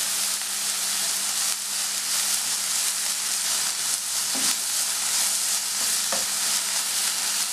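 Vegetables and beans sautéing in a pan for vegetable cutlets, making a steady close sizzle and hiss with occasional soft scrapes of a stirring spoon and no talking.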